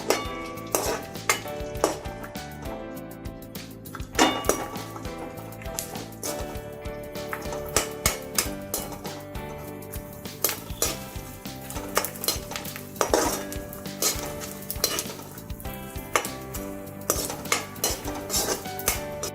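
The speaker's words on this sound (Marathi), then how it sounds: "डिंक आहे ना, हे थोडं थोडं घालून आपण तळून घ्यायचं आहे" Edible gum fries in ghee in a kadhai, cooked in small batches for methi ladoo. A soft, steady sizzle runs under frequent clinks and scrapes of a metal spoon stirring against the pan.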